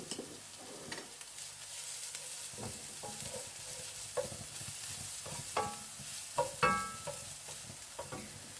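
Curry paste for a salmon fish curry frying in a pan, a soft sizzle broken by irregular scraping stirs and clinks, with no one talking.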